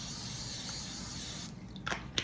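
Cooking spray hisses from a can onto a waffle maker in one steady, close spray that cuts off sharply, followed by a couple of faint clicks.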